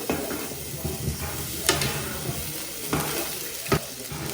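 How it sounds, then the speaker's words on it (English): Green and red peppers with onions sauteing in a hot pan, a steady low sizzle with occasional stirring scrapes and a few sharper utensil clinks against the pan, no voices. "You're going to saute the green peppers and red peppers and the onions."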